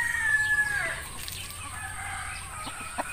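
Brown egg-laying hens clucking in a pen while a rooster crows, with a drawn-out crow at the start followed by scattered short clucks at moderate distance.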